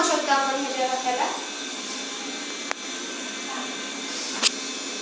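A handheld smart cleaner with interchangeable brush heads, used to clear cobwebs at home, runs with a steady airy whirr throughout while a person talks over it, with a couple of sharp clicks.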